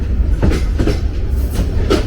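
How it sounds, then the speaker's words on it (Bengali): A train rolling slowly along the rails, heavy low rumble with rhythmic clacks of wheels over joints, loud and close, no voices. "ট্রেন সামনের দিকে আস্তে আস্তে যাচ্ছে"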